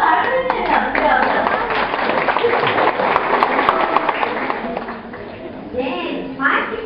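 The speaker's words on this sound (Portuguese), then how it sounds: "Palmas pro Leonardo, menina." Children and adults at a children's Mass applauding a boy named Leonardo, a brisk round of hand claps mixed with cheerful voices and chatter, fading out toward the end.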